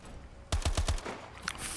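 Call of Duty Advanced Warfare multiplayer gun fires four evenly spaced heavy shots in a quick burst, loud and close, followed by a fainter trailing echo and a small metallic click.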